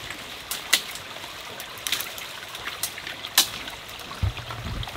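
Creek water trickles and burbles steadily outdoors, with scattered brighter splashes and drips standing out at moderate volume, and a brief low rumble near the end.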